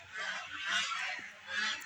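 Ducks by a pond at a temple give a faint, muffled honking chatter, a couple of soft swelling calls heard from a short distance over quiet background.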